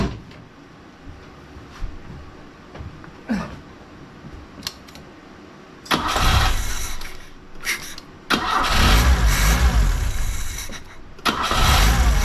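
A Fiat 124 Spider 2000 with a malfunctioning ignition coil cranks and catches, its engine surging in loud bursts with brief gaps as it struggles to keep running, then settling into a rough, uneven warm-up idle.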